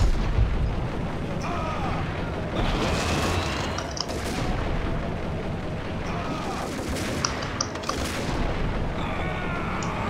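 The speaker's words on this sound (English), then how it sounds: "they're shooting grenades" Grenade blasts and gunfire in the Max Payne video game, a dense continuous barrage of booms and shots with several heavier bursts, loud and close throughout.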